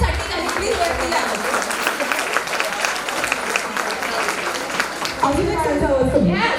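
Pune Arya Vaishya cultural event audience breaks into sustained clapping that fills the hall, steady throughout and swelling a little near the end, with voices mixed in.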